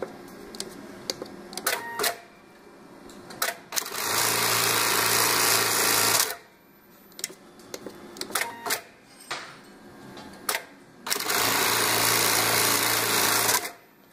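A CHNKI CLK1900D pattern sewing machine stitches box-and-cross patterns in two loud, steady mechanical runs of about two to three seconds each, separated by clicks, clacks and handling noises.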